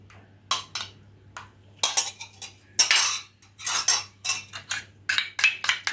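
Eggs being beaten together with chicken kurma in a bowl, a quick run of spoon or whisk clinks against the bowl in irregular bursts, close and fairly loud with no talking.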